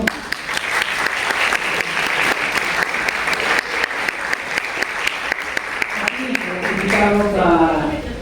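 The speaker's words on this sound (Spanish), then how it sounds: "a quien recibimos con un fuerte aplauso" Audience at a university parliament session in Lima applauds a guest, a strong, sustained burst of hall clapping that swells near the end as a voice begins speaking over it.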